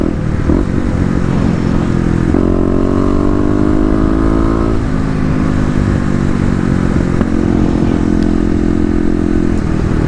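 A 2018 Kawasaki KLX250 with an aftermarket header, its engine loud and close with a deep, burbly note, the throttle twisted to rev up and then eased back, steady engine noise filling the whole stretch.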